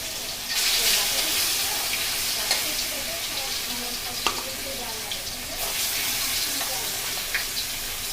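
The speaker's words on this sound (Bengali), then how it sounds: "আমি অল্প অল্প করে মাছগুলো ভেজে নেব, একসাথে বেশি দিলে মাছ ভেঙে যেতে পারে।" Koi fish frying in hot oil in a wok, a dense continuous sizzle with crackling pops and occasional sharper spatters, close and steady throughout.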